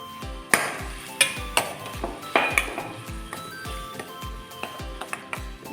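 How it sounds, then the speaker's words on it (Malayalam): Onions with salt being sautéed in a pan for Kerala chicken perattu, a spatula scraping and clinking against the metal in steady repeated strokes over a faint background sizzle, close and moderately loud, no voices. "പച്ച മണം മാറുന്നവരെ വഴറ്റി കൊടുത്തുകൊണ്ടേയിരിക്കണം."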